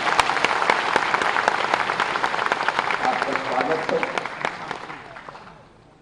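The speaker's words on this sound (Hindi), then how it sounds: "जोरदार तालियां बजाएं" Audience applause at an SC-ST business conclave and expo, dense sustained clapping from a large crowd that tapers off toward the end, with a host speaking over it.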